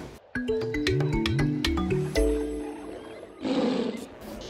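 A tiger roars in its enclosure, several deep rising and falling roars in quick succession, close and loud, followed by a short rough growl.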